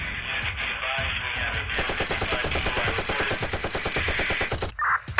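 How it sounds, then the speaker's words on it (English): Rapid sustained automatic gunfire in a Roblox Brookhaven video game rattles continuously in fast bursts, loud and dense, ending with a brief electronic tone. "What was the gunfire for?"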